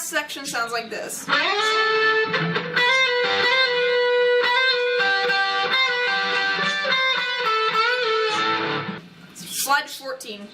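Electric guitar plays the interlude solo, with sustained bent lead notes and distorted tone ringing out loudly, ending with a few brief picked notes.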